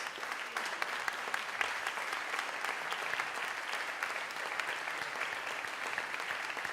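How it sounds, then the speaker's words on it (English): An audience gives a sustained round of applause for an orchestra, a dense, even wash of many hands clapping continuously throughout. "Round of applause."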